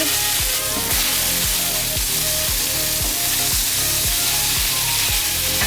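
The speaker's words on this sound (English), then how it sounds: "let's drop down our shrimp and let them start to sear" Shrimp sear on a Blackstone griddle with a loud, constant close-up sizzle and crackle. A repeating low rhythmic thump runs steadily underneath.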